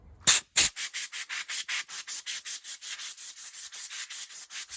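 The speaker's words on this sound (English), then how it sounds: "Give this, all the orifices, a good squirt, and I'll blow air through it all." Compressed air blown in short, rapid bursts through a McCulloch SP125 chainsaw carburetor, about twenty even hissing puffs close to the microphone.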